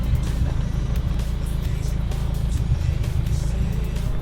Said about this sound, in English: You're doing burnouts and everything.